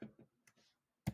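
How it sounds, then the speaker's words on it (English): Keys tapped on a computer keyboard while entering HTML code, a few soft, sparse clicks spread out and then one louder cluster of taps at the end, close and quiet. "Inside of it, I'm going to type exclamation mark, and then doctype"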